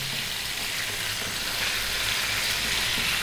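Chunky pieces of lean lamb fry over medium-high heat for a lamb curry, producing a steady, fairly loud sizzle throughout with a low background hum and no speech.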